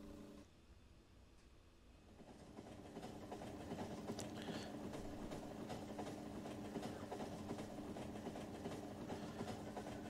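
Train ride in the factory-building game Factorio: a low engine drone builds from quiet to a steady, full rumble with faint rhythmic rail clatter, continuous and fairly close throughout.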